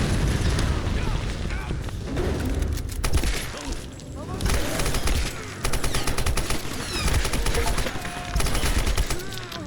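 Gunfire and explosions in the video game Tomb Raider (2013): rapid bursts of automatic fire and heavy booms roll on almost continuously, loud and dense, with a short lull midway and a voice talking over the action.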